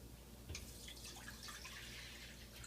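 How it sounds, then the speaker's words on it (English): Water, about one and a third cups, splashes steadily into a pan for oatmeal cookies, a continuous close pouring rush with no talk. "Now we must pour that into a pan and start boiling water."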